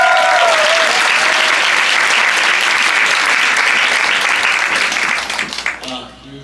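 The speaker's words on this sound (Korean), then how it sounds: "아까 박수 한대 한번 더." Loud, dense applause from a concert audience fills the hall steadily, then thins and fades out near the end.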